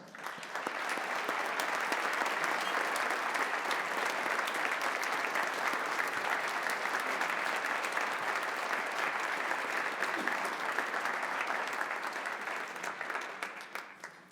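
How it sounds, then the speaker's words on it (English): Sustained applause from a concert audience honouring the participants of a veterans' concert band event, a dense even roar of many hands clapping alone for about fourteen seconds before tapering off at the end. "Would all of today's participants please rise as we give you a big round of applause"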